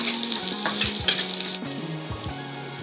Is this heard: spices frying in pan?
yes